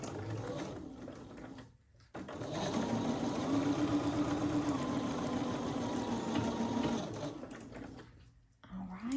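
Sewing machine top stitching around a quilt block: a steady, close, humming run of needle strokes for about six seconds, starting and stopping cleanly, with a voice talking over the stitching.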